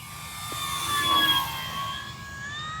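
An E-flite P-51D Mustang 1.2 m electric RC warbird makes a low pass, its faint motor and propeller whine swelling briefly as it goes by and then fading into the distance.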